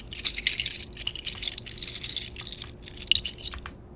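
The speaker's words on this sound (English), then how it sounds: "This is the wood nuts that I recorded, which is like the wood musical instrument. Sounds like this on its own." A homemade wooden-nut rattle, a wood percussion instrument, shaken alone: dense, dry clattering clicks that swell and fade in loose bursts, with one sharper knock near the end.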